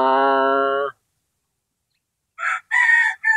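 Two rooster crows: one long harmonic crow up close, then after a pause another crow in broken bursts, no other sounds between.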